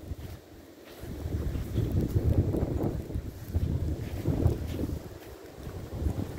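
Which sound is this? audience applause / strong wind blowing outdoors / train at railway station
strong wind blowing outdoors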